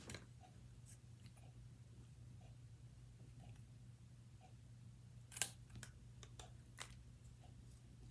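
Quiet, crisp scissor snips trimming card for an Easter card, a few sharp cuts spaced irregularly over a low steady hum.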